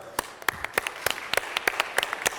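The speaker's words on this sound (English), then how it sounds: "please give them a great round of applause" Scattered, fairly quiet applause in a city council chamber, individual sharp claps at an irregular rhythm, thinning out, with no voices.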